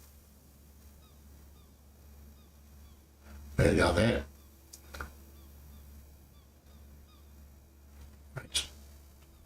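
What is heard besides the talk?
seagulls calling in the video game Escape The Pacific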